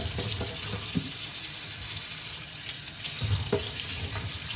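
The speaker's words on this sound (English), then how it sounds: "we're going to clean off our string bean. Wash them, make them clean." String beans are washed under a running kitchen tap, a close, steady gush of water into the sink with soft splashes and a few light knocks as the beans are handled, and no voices.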